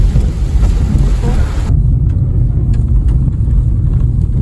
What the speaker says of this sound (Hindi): लो भाई अब तेज शुरू होगी बारिश।